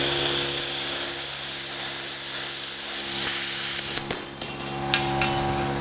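A Hypertherm plasma cutter with a built-in air compressor slices through a thick metal rod with a steady, loud hiss. Near the end come a few sharp crackles and pops as the cut breaks through.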